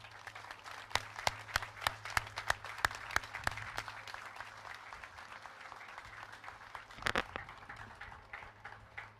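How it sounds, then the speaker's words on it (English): An audience at a news conference on the completed I-43 highway reconstruction in Milwaukee claps, with sharp, scattered claps at first building into a sparse, moderate round of applause from a small indoor crowd. "give yourselves a big round of applause"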